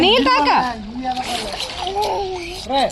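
A child splashes water with their hands, with bursts of splatter and sloshing close by while a voice and an adult's voice talk over it.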